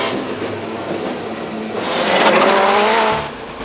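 Rallycross cars at Mondello Park in a 2005 British Rallycross Championship round run up through the gears onto the straight, a continuous engine roar with rising pitch that swells louder mid-way, then eases off toward braking.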